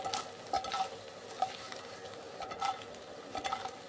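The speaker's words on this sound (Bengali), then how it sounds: "তো এখন পনিরটাকে এই যে সাদা তেলে ফ্রাই করে নিচ্ছি।" Paneer pieces frying in white cooking oil, a steady soft sizzle with occasional sharper crackles and spatters, close by and alone with no voices.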